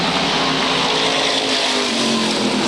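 SK modified race cars roar around the one-third-mile Waterford Speedbowl oval, a loud continuous engine drone filling the whole moment with no pause.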